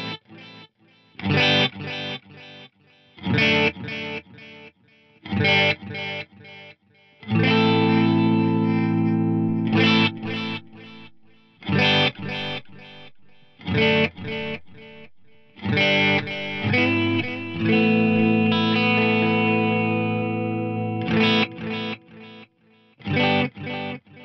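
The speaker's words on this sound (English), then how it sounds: "I really, really like the way that 12-bit mode sounds in there" Clean plucked guitar phrases followed by gritty, lo-fi digital delay repeats from a Strymon DIG pedal in 12-bit mode. Sustained chords ring out with a crunchy, slightly distorted echo, and there is no talking.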